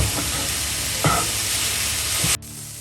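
Noodles are mixed in a hot pan with a loud, steady sizzle and a few scraping stirs, before the hiss cuts off abruptly near the end and only a faint background remains.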